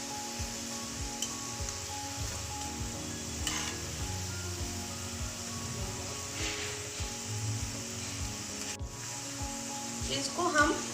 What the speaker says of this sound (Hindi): इसको हम मूंगफली के तेल में तल रहे हैं